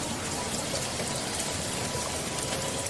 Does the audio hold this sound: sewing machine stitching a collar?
no